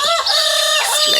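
A rooster crows loudly and close by, one drawn-out cock-a-doodle-doo.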